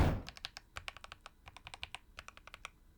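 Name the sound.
typing on a keyboard with rubber-coated keycaps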